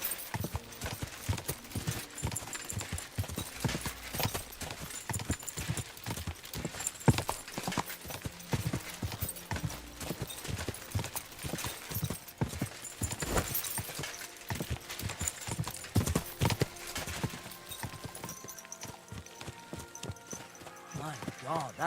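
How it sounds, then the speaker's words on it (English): Horse hooves clip-clop at a steady walking rhythm in the video game Kingdom Come Deliverance 2, with someone talking over the hoofbeats and a brief near-silent stretch at the end. "My God, that looks like a bloody expensive horse."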